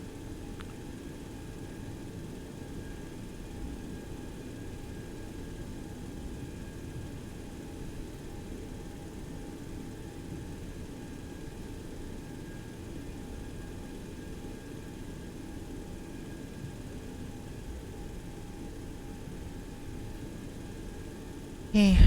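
A steady, low jet engine drone from a Boeing 727-200 Advanced taxiing at an airport in a flight simulator, holding an even rumble with a faint whine throughout and no voices.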